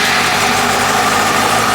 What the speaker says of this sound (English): And we have a running bike. Beautiful. And it sounds pretty darn healthy